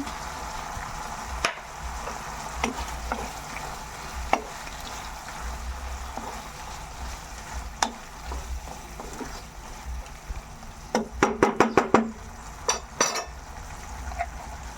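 Squid and shrimp frying in a pan with steady sizzling throughout, punctuated by occasional clinks and a quick burst of stirring scrapes near the end.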